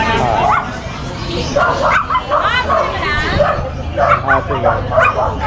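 Small female Pomeranian yapping in quick, high bursts amid a busy pet market crowd, with people talking over and around the barks.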